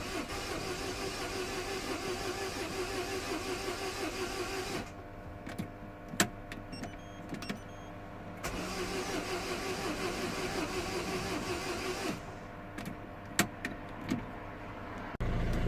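Peugeot Expert 1.6 HDI diesel van with a no-crank, no-start fault, now running after months unused: a steady idle with short cranking and restart stretches, occasional clicks and clatter, and one brief rise in engine noise at the end.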